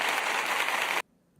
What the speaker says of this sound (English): I'm clapping and there's applause.